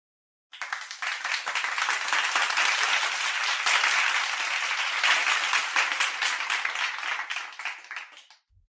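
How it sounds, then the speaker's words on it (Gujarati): A whole class of schoolchildren applauds together after a song, steady dense clapping that starts abruptly and holds loud for about eight seconds before tapering off. "આખો વર્ગ તાળીઓ સાથે જોડાયો."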